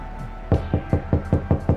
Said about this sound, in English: At that moment, you hear a knock on the door.